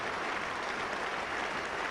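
Spectators at a 1976 England v West Indies test match applaud a dismissal, a dense, steady sheet of clapping from a large crowd heard at a distance, with no voices over it.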